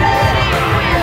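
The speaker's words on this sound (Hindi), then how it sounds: "यहाँ पर देखिए कितनी सारी भीड़ है, कितने लोग मजे कर रहे हैं यहाँ पर" Dense crowd noise fills an indoor exhibition hall, a steady loud wash of many voices with children shouting and cheering mixed in, continuous throughout.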